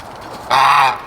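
A single loud, nasal goose honk, held for about half a second, sounds close by from unhappy farm geese after a short quiet lead-in.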